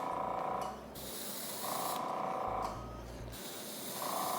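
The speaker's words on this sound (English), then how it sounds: "I'm going to use an air compressor to spray it in" Bursts of hissing spray from an air compressor spraying hair dye alternate with a low motor hum in a steady rhythm, fairly close and moderately loud.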